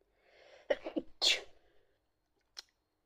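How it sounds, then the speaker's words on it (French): A single sneeze bursts out indoors, a sharp intake and explosive release close to the mic, followed by a brief faint sniff in an otherwise quiet room. "Excusez-moi, j'ai éternué."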